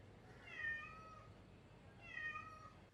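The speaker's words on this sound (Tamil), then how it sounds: "அவன் கண்டிப்பாக மியாவ் பண்ணிகிட்டே இருப்பான்" A cat meows twice, each call drawn out and fairly clear, with a pause of over a second between them, against a quiet indoor background.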